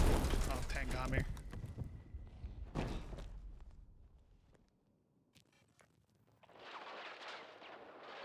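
Tank fire and explosions in Battlefield 6 land as heavy booming blasts with rumbling tails early on, then a quieter stretch with scattered clicks and a noisy rush of gunfire and activity.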